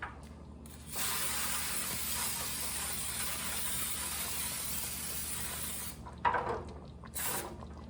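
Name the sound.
Baker's Joy baking spray sprayed into a pan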